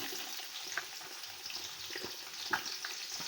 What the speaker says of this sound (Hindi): ये एक बड़े साइज़ का प्याज जो मैंने स्लाइस में कट कर लिया था इसमें डाल देंगे।